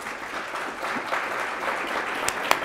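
Audience at a lunch and business meeting gives a sustained round of applause, dense clapping at steady loudness with a couple of sharper individual claps near the end.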